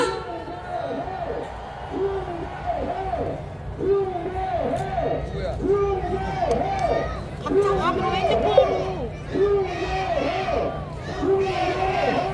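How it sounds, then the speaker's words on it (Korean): A large outdoor protest rally crowd roars and chants in a steady repeating rhythm, many voices rising together in loud waves of cheering. "박수를 부탁드리겠습니다"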